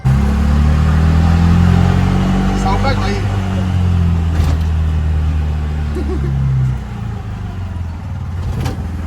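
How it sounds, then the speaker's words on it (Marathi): An auto rickshaw is driven along, its engine droning loudly and steadily up close with rattling and a drop in revs near the end, while a person speaks briefly. "आता रिक्षा मी चालवणार आहे इथून ते घरपर्यंत"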